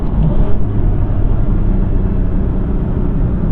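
A Porsche Cayman 981 accelerates in third gear after a downshift, its engine a loud, steady low rumble heard from inside the car with no talk over it.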